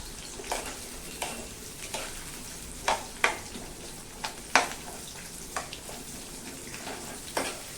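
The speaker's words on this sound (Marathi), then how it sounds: "कांदा मस्तपैकी तळून घेऊया" Onion for a Maharashtrian dhaba-style shev bhaji fries in a pan with a low, constant sizzle, broken by irregular scraping stirs and light clinks of a spoon against the pan.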